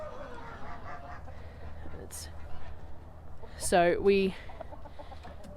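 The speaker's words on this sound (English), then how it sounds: "So it looks like we've got 4 roosters and 3 hens." Backyard flock of four roosters and three hens clucking nearby, with a loud squawking burst about midway, while a person talks over the birds in the pen.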